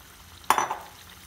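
Boiled chickpeas drop into a pan of roasted spices and are stirred, giving one sudden, loud sizzling burst that fades over about half a second against quiet kitchen background.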